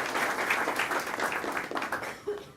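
Audience applause at an honorary doctorate ceremony on judicial independence in Xalapa, a brief, dense burst of many hands clapping that fades near the end.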